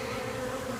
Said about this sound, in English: there's bees, lots of bees, actually quite a few bees with pollen on their legs